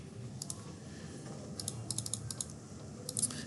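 Faint, light keyboard taps come in short irregular clusters as someone types in a trigonometric expression. A steady low room hum runs underneath, and no one speaks.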